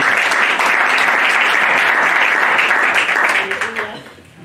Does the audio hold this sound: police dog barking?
no